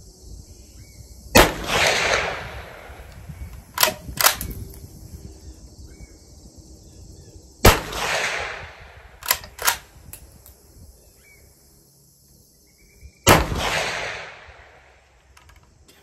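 A suppressed 300 Blackout rifle fires 124 grain S&B rounds outdoors: five sharp muffled reports, one near 1.4 s, a quick pair around 4 s, another near 7.7 s with a close pair after, and a final one near 13 s, each ringing briefly.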